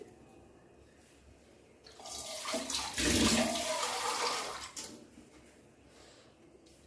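A burst of water pours into a pot of kidney beans for a couple of seconds, swelling to a full splashing rush before tapering off, near and with no talking.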